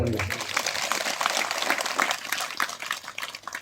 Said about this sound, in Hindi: चलिए जोरदार ताली बजा देंगे।